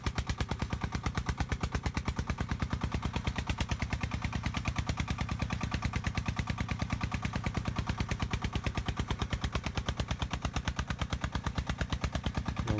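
A walk-behind tractor's single-cylinder engine thumps steadily under load, hauling a heavy cargo, with a rapid, even staccato pulse that stays loud and close throughout and no one talking.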